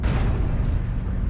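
A loud, continuous rumbling blast from an airstrike in MechWarrior Online, a thick low-heavy roar that decays slowly across its short length.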